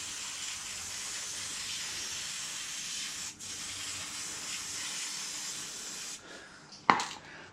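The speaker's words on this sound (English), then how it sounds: "And give it a wee spray with some lithium." Aerosol can of lithium grease sprayed onto a Suzuki Boulevard M109R motorcycle engine mount, a steady close hiss lasting several seconds before a brief pause and a short clunk.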